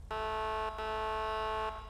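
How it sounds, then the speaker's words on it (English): Police vehicle horn in FiveM, the GTA V mod, a harsh buzzing blare sounded twice, a short blast followed after a tiny gap by a longer held one. "Here's your horn."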